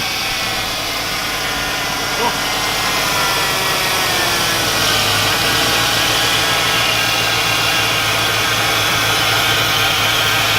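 A V8-swapped Volvo race car engine idles with a steady, loud mechanical hum and whine that holds evenly throughout, close by.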